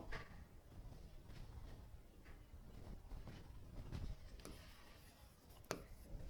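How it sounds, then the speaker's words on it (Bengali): Pen scratching on paper while writing out an English answer for a class-nine school exercise, a soft continuous rubbing with short strokes and a few sharper taps, close and fairly quiet. "একটা একটা পার্ট লিখবো।"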